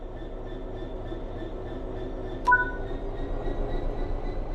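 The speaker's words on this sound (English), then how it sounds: "Apply some throttle to get the train moving." A train in the Train Sim World 5 video game sits under low steady rumble with faint tonal hum as throttle is applied, a short sharp squeal or hiss breaking in midway.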